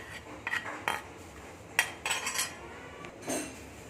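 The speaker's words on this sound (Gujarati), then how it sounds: "આને એકદમ સરસ આપણે મિક્સ કરી લેશું" A spoon scrapes and clinks against a pan while roasted flour is mixed with ghee, in irregular separate strokes with quiet gaps between them.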